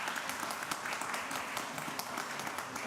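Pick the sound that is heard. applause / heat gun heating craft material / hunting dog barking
applause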